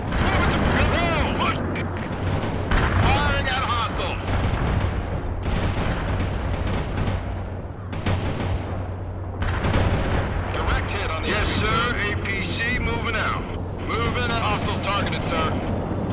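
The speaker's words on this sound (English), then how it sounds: "Firing at hostiles." Gunfire in the video game World in Conflict, with bursts of rifle and machine-gun fire and heavy weapon blasts crowding a loud, busy battle mix, while shouted radio-style voices talk over the shooting.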